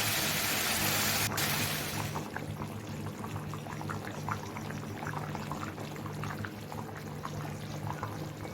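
Hot water poured onto sautéed meat in a cooking pot, starting as a loud, close, steady rush that gives way to softer bubbling and sizzling with a low hum underneath.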